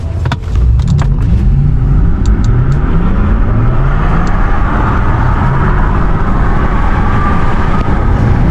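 A base Porsche Taycan electric car launches hard from a standstill, a loud, steady whine and road rumble rising in pitch as it gathers speed, continuous for several seconds with no talking.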